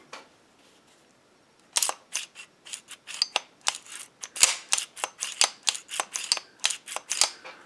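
A Magnum Research 1911 pistol, new out of the box, has its action worked repeatedly on a tabletop: a quiet start gives way to a steady series of sharp, close metallic clicks and slide clacks, with no one talking.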